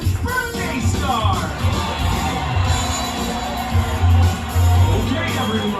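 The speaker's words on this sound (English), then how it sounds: "Let's have a big round of applause for our Chuck E. Cheese's birthday star!" Crowd at a Chuck E. Cheese's birthday party cheering, whooping and clapping for the birthday child, a loud busy wash of voices with bursts of louder shouts near the end.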